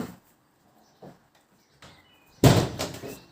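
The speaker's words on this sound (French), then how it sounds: "Je vais fermer la porte de la chambre" A bedroom door is pushed shut indoors, a few soft bumps and shuffles followed by one louder closing thud with a brief rattle.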